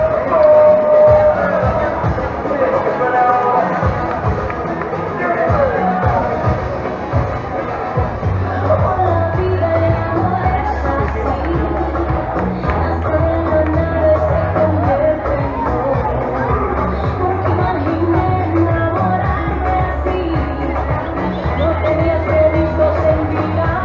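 Spectators applaud and cheer runners reaching the finish line of a 7K road race on Avinguda Santa Maria in Meliana, a steady crowd hubbub with clapping and occasional shouts, lasting throughout at moderate loudness.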